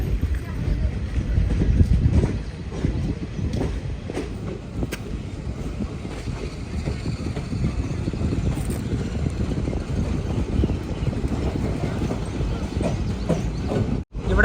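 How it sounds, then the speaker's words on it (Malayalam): A train pulls out of a station on the Tinsukia to Ledo line in Assam, a continuous loud rumble with rhythmic rattling and clatter of the carriages. "അങ്ങനെ ഈ സ്റ്റേഷനിൽ നിന്നും ട്രെയിൻ ഇതാ എടുത്തിരിക്കുകയാണ്"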